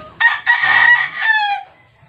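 Roosters crowing together with clucking chickens near a farm hut, one loud crow rising and stretching out over about a second and a half, then fading to quiet.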